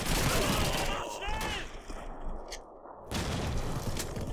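Gunfire and grenade blasts from a Call of Duty match, with rapid shots and booming explosions in a dense, continuous battle mix, a short lull partway through, and a voice speaking over the combat.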